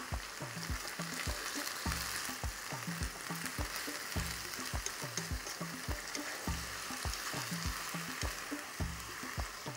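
A stir fry sizzles in the pan after cashew nuts go in, with a steady bed of frying hiss and a fast, regular run of scraping, clacking stirring strokes throughout, close and with no talking.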